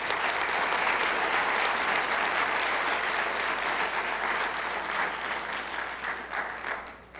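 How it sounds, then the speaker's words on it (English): A lecture audience welcomes a speaker with sustained, dense applause that holds loud and even for several seconds before thinning out toward the end. "will you please give these folks a warm welcome of applause"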